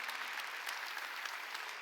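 A church congregation claps during a Sunday sermon, a dense, even burst of applause that carries on without a break, moderately faint and spread through the room, with no speech over it.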